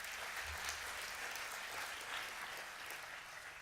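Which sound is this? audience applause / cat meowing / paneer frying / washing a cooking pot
audience applause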